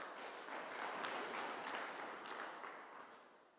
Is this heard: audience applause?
yes